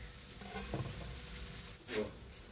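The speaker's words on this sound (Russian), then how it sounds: "Тем временем лук у нас обжарился." Quiet, steady sizzling of onions frying in a pan, with a couple of soft stirring scrapes.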